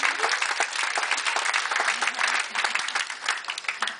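An audience at a casino comedy show gives a round of applause, dense, lively clapping filling the whole few seconds without letup.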